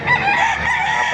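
Loud, close rooster crowing with clucking from many chickens packed together inside a poultry market in Baliuag, Bulacan, a dense overlapping chorus of birds.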